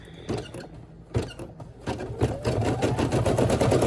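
Brother SE1900 embroidery machine stitching an applique onto a puppy's bag, a steady mechanical whirring with rapid needle ticks that starts intermittently and builds into continuous running.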